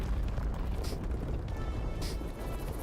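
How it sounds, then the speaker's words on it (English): An explosion in the fantasy video game Avowed, a loud, dense rumbling boom that fills the whole clip, with two brief bursts of crackling debris breaking through the roar. "Mal sehen, ob man die Explosion sieht."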